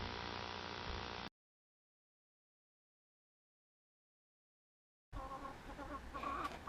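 Chickens clucking at a backyard coop, a burst of busy fowl chatter, then a long silence before the flock's clucking returns, close and fairly loud.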